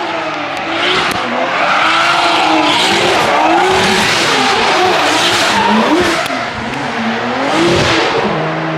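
A 1000-horsepower Formula Drift car roars loudly from inside the cabin, its engine rising and falling in pitch while the tires squeal and skid continuously throughout.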